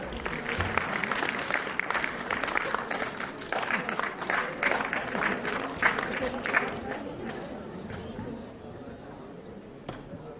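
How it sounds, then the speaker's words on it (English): An audience at the HealthCon 2025 international health sciences conference claps loudly and steadily in a large hall for about ten seconds, with some crowd voices and chatter mixed in. "Please welcome them with a huge round of applause."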